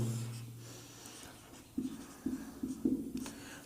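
Chalk or marker scratching across a board during a maths lesson, a few short bursts of strokes at close range in an otherwise quiet room.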